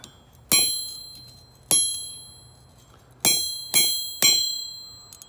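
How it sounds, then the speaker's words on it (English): Five ringing metallic hammer blows on an anvil while fitting wolf jaw blacksmith tongs, struck in an uneven rhythm with two pairs close together, each strike bright and clanging with a long decaying ring, close and loud. "Hammer that guy in like that."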